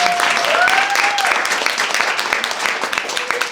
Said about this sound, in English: I'd like us all to give her a big round of applause